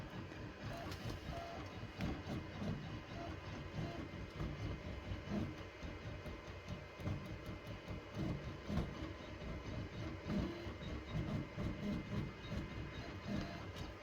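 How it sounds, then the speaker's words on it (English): A Redline 1501 embroidery machine traces a design outline with a hat hoop fitted, giving a continuous mechanical whir and rapid clattering motor movement at steady loudness throughout. "And now it's tracing."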